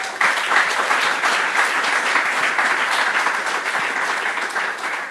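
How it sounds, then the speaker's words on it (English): Steady, dense applause from a summit audience for a panel of speakers, loud and continuous throughout with no talking. "I would like to do another round of applause for them."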